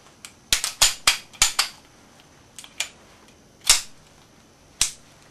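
A pistol sidearm is cocked and locked, giving a rapid cluster of sharp, close metallic clicks followed by a few more spaced-out snaps against a quiet background.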